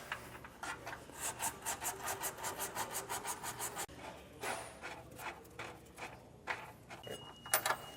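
Bolt hardware run in and out of weld nut holes on a 2022 Hyundai Santa Fe during a Curt trailer hitch install, a rapid series of rhythmic metallic ratcheting rasps, then scattered scraping and clicks nearby.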